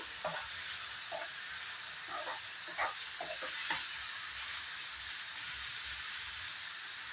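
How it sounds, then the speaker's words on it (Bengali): Mushrooms and raw spices frying in a pan give off a steady sizzling hiss, with several short scraping stirs in the first few seconds, close and alone. "এখন সব কটা জিনিস ভালো করে ফ্রাই করে নেব।"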